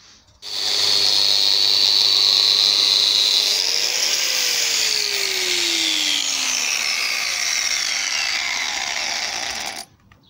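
An angle grinder fitted with a sanding disc runs continuously on welded steel for a jointer guard, a loud high whine with shifting pitch as the disc bites, starting abruptly and stopping near the end.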